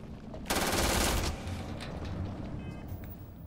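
Rapid automatic gunfire from a weapon in the video game Starfield, a loud dense burst lasting about a second, then fading mechanical game sounds.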